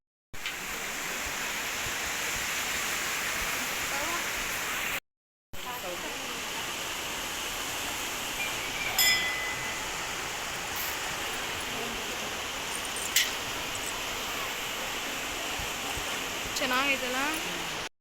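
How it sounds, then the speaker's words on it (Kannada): The Tungabhadra river at Mantralayam rushes forcefully in a constant loud roar, briefly cut off once, with faint voices now and then. "ನೀರು ಹರಿ ಹರಿತಾ ಇರುತ್ತಲ್ಲ ಫೋರ್ಸಾಗಿ"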